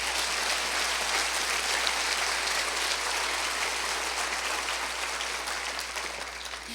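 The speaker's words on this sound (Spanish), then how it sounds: "Da un aplauso al Señor." A church congregation claps continuously, a dense, loud wash of applause that stays steady and then tapers off slightly toward the end.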